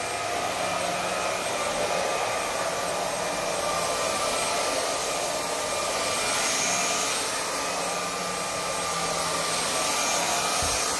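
A Vaclab X11 Pro vacuum cleaner runs steadily while sucking up fake Christmas tree needles, a loud, continuous high-pitched whine and rushing airflow with no voices.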